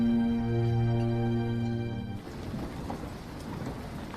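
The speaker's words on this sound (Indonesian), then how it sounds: "cuaca yang mendung menandakan sebentar lagi akan turun hujan." Steady rain falling in a film scene, a broad hiss that takes over after a low sustained musical tone ends about halfway through, with no voices.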